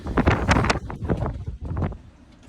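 Strong wind gusts buffet the microphone aboard a sailboat at sea, a loud rushing roar that rises and falls in close, blustery bursts.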